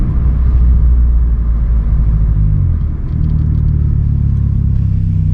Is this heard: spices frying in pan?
no